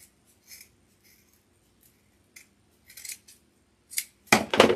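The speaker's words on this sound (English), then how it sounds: "Scissors." Scissors snip in short, sparse bursts, a few quiet cuts spaced apart, then quicker, louder snips at the end, close by in a quiet room.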